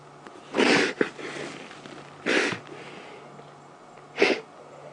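Three short, sharp sneezes from a lion on a safari drive, spaced a second or two apart, close by, with quiet low hum between them.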